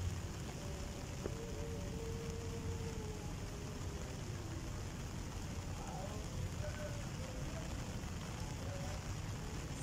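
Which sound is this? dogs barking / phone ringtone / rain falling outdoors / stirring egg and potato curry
rain falling outdoors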